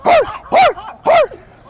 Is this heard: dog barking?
yes